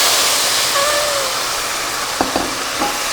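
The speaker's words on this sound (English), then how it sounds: "You're going to add the chicken, and because there's water here and oil there, it's going to be a little sparkly." Chicken pieces sizzle loudly in hot oil with some water in the pot while cooking pelau, a steady broad crackling hiss with a few faint clinks and scrapes near the end.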